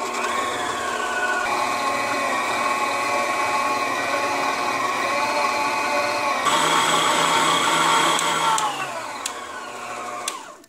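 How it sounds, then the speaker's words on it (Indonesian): An electric mixer kneads homemade pizza dough, a loud steady motor whir that holds for several seconds, changes pitch partway through, then winds down and stops near the end. "kita di blender, kita di whisker sampai kalis sekitar 10 menitan ya"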